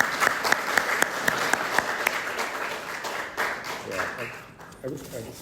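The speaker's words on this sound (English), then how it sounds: "Could we have a round of applause?" A school assembly audience at Riversdale claps in a brief round of applause, fairly close and lively, thinning out as a voice starts to speak.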